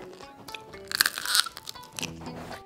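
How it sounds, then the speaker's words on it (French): Crunchy chewing of oven-baked food, close up: a run of crisp bites and crunches, loudest through the middle, with softer chewing before and after and no talk. "Quand tu mâches, ça croque,"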